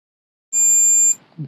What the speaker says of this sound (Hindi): ये बीप साउंड जो है नहीं आना चाहिए था, बीप साउंड आ रहा है, इसका मतलब ये अंदर से शॉर्ट है।